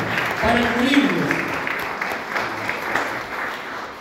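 A church congregation applauds, a broad wash of clapping that tails off gradually, with a voice speaking over its opening.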